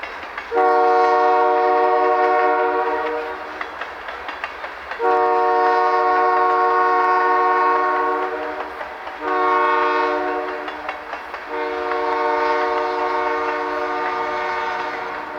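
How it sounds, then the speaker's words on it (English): A freight train slowing through a curve near a town sounds its horn in four long, loud chord blasts with short pauses between, over a low rolling rumble of the train. "the train's pace eases back as it approaches town"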